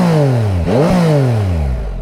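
A new motorcycle with its stock exhaust is revved up hard close by, then the revs drop back and climb again in a loud, rough growl.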